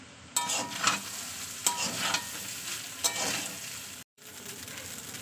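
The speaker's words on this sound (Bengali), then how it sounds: "তো এটাকে আমি ভালোভাবে নাড়তে থাকবো এবার" Fried rice with ghee and fried vegetables being stirred in a frying pan: a steady sizzle with repeated scraping strokes of the spatula, close and fairly loud, with a brief break near the end.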